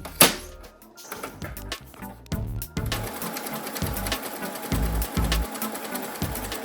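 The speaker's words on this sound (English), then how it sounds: "if I can zigzag sew this, I think that might work" Sewing machine running zigzag stitches on stretchy fabric for a teddy bear spa headband, a close mechanical rattle in several bursts with short pauses between runs, then steadier stitching toward the end.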